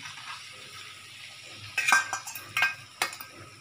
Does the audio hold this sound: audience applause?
no